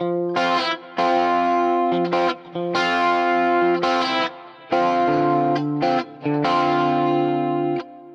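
Clean, chorused electric guitar run through a Fractal Axe-FX III, playing sustained melodic phrases with a slight distorted edge, separated by short pauses.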